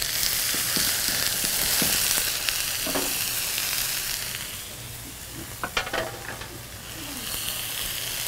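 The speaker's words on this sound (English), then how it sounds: "Satisfying little sizzle." Rubbed steak strips sear in a hot pan, giving a steady loud sizzle and hiss with small pops and crackles throughout.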